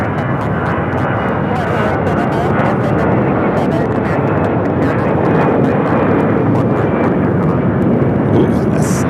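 Southwest airliner taking off from runway 7 left at Phoenix Sky Harbor airport, a loud, continuous roaring jet engine rumble that stays strong throughout, with crackling radio chatter over it.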